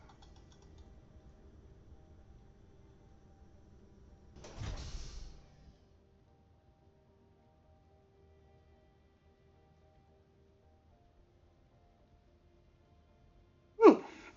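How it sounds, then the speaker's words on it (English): Hangar doors close in a space survival mining video game, a mechanical sliding rush lasting about a second over a low hum, then a sharp loud clunk as they shut at the end. "And close those hangar doors."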